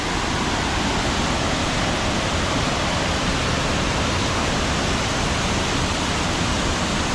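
Water thunders down Tad Kuang Si waterfall in Laos, a dense, steady roar of rushing water heard close and loud without a break, with no voices over it.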